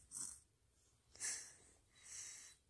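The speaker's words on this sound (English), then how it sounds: "Can you stop snoring?" A person snores in three long rasping, breathy pulls, each swelling and fading with short gaps between, fairly close and moderately quiet, with no talking over them.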